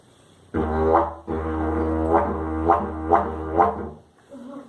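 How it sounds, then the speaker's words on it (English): Close didgeridoo drone broken by a short gap, then punctuated by several sharp, whip-like accents in a quick, even rhythm. "it makes a sort of whip sound"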